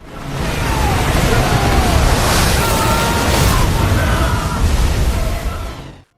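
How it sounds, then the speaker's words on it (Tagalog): Large waves crashing down in a dramatized sea scene, a loud broad roaring wash of surf that swells in and stays heavy for several seconds before cutting off. "bumagsak ang mga alon."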